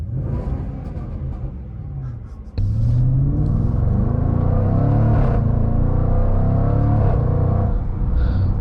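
A 2024 Jaguar F-Pace SVR with its V8 engine pulls away while driving, a deep close rumble that steps up sharply into a loud, sustained rising roar through gears, heard alone without talking.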